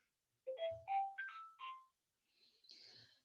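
A ringing older telephone gives a sequence of tonal ring bursts with rising pitch steps, then pauses and rings again more faintly. It comes through clearly in a quiet room with no talking.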